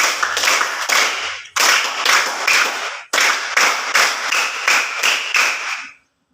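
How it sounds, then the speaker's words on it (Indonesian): A class of children claps the 3-3-7 rhythm together, sharp unison claps in a group of three, a second group of three, then a run of seven, loud and close with no talking. "Tepuk tiga-tiga-tujuh."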